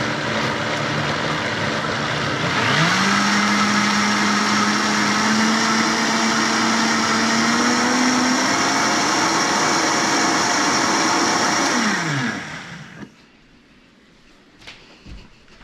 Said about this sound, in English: we're just gonna blend this up. This is an ancient Vitamix that a friend gave me when she was cleaning out a relative's house.